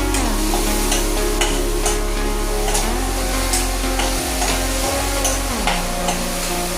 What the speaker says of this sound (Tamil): நம்ம ஒரு கடாய் எடுத்து அதில் இது எண்ணெய் ஊற்றி கடுகு போட்டு கருவேப்பிலை போட்டு தக்காளி உள்ளி இதை போட்டு நல்லா இப்படி வதக்கிடுவோம்